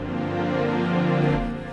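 Sustained orchestral strings from the $50 version of a sample library swell in a short lush chord, full and warm, fading slightly at the end.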